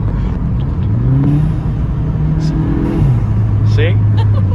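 A Volkswagen MK7 GTI fitted with an Integrated Engineering intake revs in a few rising and falling pulls, its steady engine drone close by, with people talking over it.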